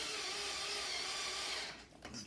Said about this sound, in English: And just screw that cover in nice and tight.